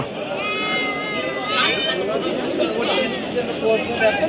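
Goats bleat repeatedly at a busy weekly goat market in Kadiri, several calls overlapping amid crowd chatter and someone talking nearby.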